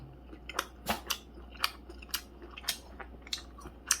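Someone chews grilled beef close to the microphone, producing a dozen or so crisp, wet bites and mouth clicks at an irregular, steady pace over a faint hum, with no talking.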